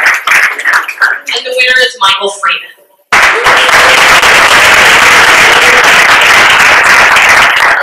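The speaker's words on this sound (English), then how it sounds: "Now, big round of applause for all the finalists." After a voice speaks at an awards event for data visualization finalists, a loud, dense burst of crowd applause erupts and continues steadily.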